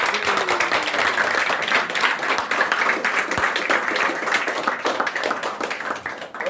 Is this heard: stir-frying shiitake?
no